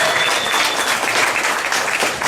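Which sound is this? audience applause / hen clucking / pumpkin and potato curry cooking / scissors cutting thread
audience applause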